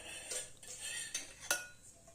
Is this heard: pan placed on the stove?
yes